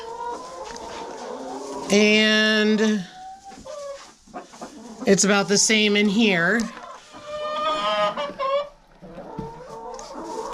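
Chickens clucking and squawking inside a coop on a frigid farm morning, several bird calls rising and falling close by, interleaved with a person speaking.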